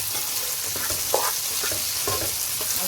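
Garlic and onion fry in a hot pan for a seafood linguine stir fry, a steady close sizzle with occasional louder crackles and stirring scrapes, no talking.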